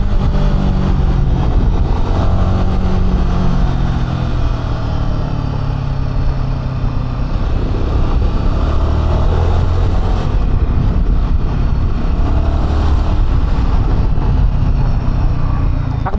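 A Royal Enfield Himalayan 450 motorcycle rides through traffic on a family trip to La Union, its engine and road rumble loud and steady from start to finish, with no pauses.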